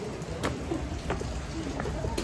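Steady cold rain falling outdoors near a store, a soft constant patter with occasional sharper drops, fairly faint and close.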